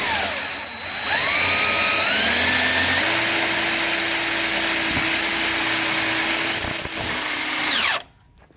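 A power drill runs continuously at close range, its motor pitch rising and holding steady while boring through material, then it stops abruptly.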